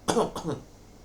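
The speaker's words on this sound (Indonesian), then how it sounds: "Lalu dibatuk-batukkan." Two quick coughs in succession, close and fairly loud, then quiet.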